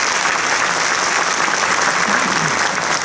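A concert audience at a special performance bursts into loud, dense applause that holds steady and close for the whole stretch without pause.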